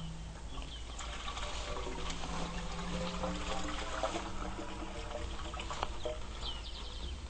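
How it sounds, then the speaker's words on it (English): Water gurgles and pours steadily into an emergency well bucket lowered down a well, a continuous rushing trickle heard from close by at a soft, even level. "The water is coming in"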